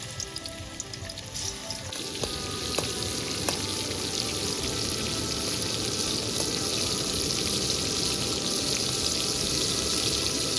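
Prawns fry in oil in a wok, a dense, steady crackling sizzle that starts with a few clinks and holds evenly throughout, close and fairly loud with no talking.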